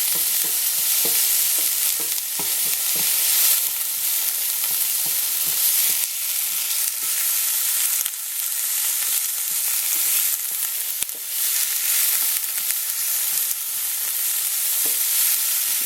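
Sliced leeks sizzle and soften in a slightly too-hot ceramic pan, a steady close frying hiss broken by occasional stirring clicks, with no talking.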